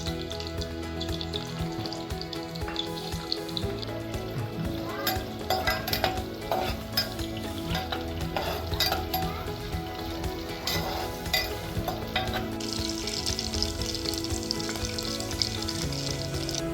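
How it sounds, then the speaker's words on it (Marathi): Onions frying and being stirred in hot oil for veg biryani, a steady, loud sizzle broken by clinks and scrapes of the spoon against the pan. "तेल गरम झालंय, कांदा तांबूस होईपर्यंत परतून घेऊ।"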